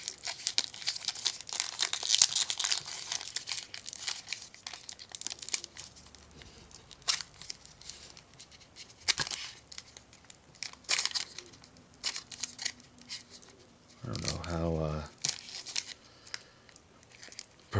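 Panini trading card pack wrappers being torn open and handled, producing intermittent crinkling and crumpling bursts at close range, with a louder crunchy rustle near the end and quiet gaps between.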